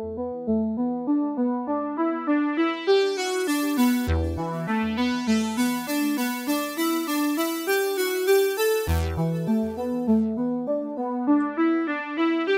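Guitar run through a filter whose cutoff is swept by an automated envelope, giving a steady picked pattern with a moving, wah-like tonal sweep over about twelve seconds, loud and without any voices.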